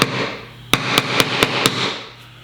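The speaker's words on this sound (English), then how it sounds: "I'm gonna just see if I can take a hammer a little bit to this side to kind of even it out." A hammer taps a wooden pocket hole plug from a Kreg K4 pocket hole kit, leveling its side with five sharp, evenly spaced knocks over a steady background hiss.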